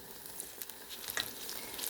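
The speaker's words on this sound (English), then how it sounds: "And I am frying them right now" Ripe plantain slices frying in hot oil, a soft steady sizzle with scattered pops and crackles, faint and close, with no voices.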